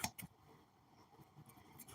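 Close, quiet snips and scrapes as a cardboard box is cut open, a few short cutting strokes in quick succession followed by softer rustling.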